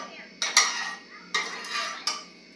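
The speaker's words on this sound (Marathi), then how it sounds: "अगोदर तव्यामध्ये थोडंसं तेल टाकून घ्यायचं" Oil spread across a hot tawa griddle, three bursts of metal scraping and clinking as a spoon or spatula sweeps the pan, short pauses between each, close and alone.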